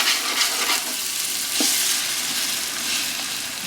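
Onions frying in oil and being stirred while browning for a Mathania chilli mutton curry; a steady, fairly close sizzle runs throughout with scraping stir strokes, including a sharper scrape near the middle, and no voices.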